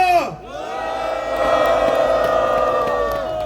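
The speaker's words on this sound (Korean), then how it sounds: "여러분의 힘찬 함성으로 시작하겠습니다." Crowd cheering at a citizens' rally in Daejeon, a loud sustained roar of many voices shouting and whooping that swells after a brief dip and holds throughout.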